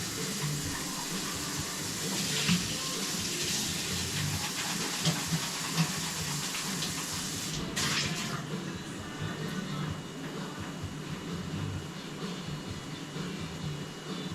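Tap water runs steadily while a coffee pot is rinsed, a continuous broadband hiss with small clinks and a brief louder splash midway.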